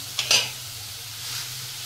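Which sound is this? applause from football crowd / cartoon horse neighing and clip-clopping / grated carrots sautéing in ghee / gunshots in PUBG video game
grated carrots sautéing in ghee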